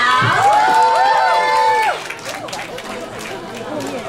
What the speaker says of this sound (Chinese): 掌声欢迎我们今天的主角贺军翔。